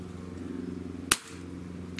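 A single sharp, close report from a Benjamin Marauder semi-auto PCP air rifle cracks out once against a low steady hum and fades quickly.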